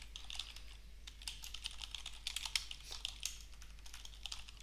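Steady, rapid typing on a computer keyboard while a meta description is written for a PrestaShop 1.7 online shop, with dense clusters of light, close clicks over a low background hum.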